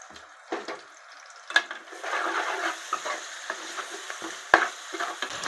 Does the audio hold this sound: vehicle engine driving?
no